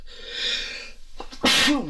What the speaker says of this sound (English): Now, I'm about to sneeze.